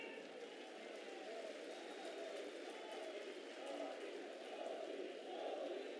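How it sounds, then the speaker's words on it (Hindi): A large crowd roars and cheers continuously from a distance at a public rally for PM Modi in Khandwa, Madhya Pradesh, India, a dense, steady wash of voices and clapping with no pauses. "तालियों की गड़गड़ाहट से माननीय मोदी जी का स्वागत करें"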